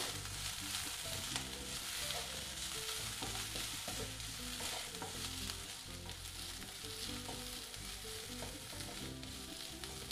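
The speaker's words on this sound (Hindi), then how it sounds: "अब हम उसमें डालेंगे चॉप किया हुआ अदरक हरी मिर्च हल्का सा हम सॉटे करके लेंगे" Chopped ginger and green chili sauté with onion in a pan, giving a steady, close sizzle with occasional stirring scrapes that runs unbroken throughout.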